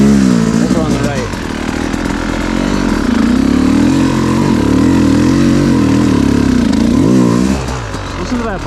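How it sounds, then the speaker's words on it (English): Enduro dirt bike engine lugging under load on a hard enduro practice line, a steady low throbbing drone with a few rising revs, close and loud throughout, with a rider's voice talking over it. "Listen to that bike kind of lug, you know, I'm pushing it."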